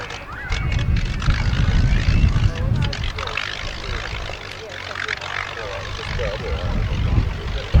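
A Cessna L-19 Bird Dog propeller plane at the Duxford Summer Air Show, its engine droning steadily in the distance beneath a commentator's voice and crowd noise.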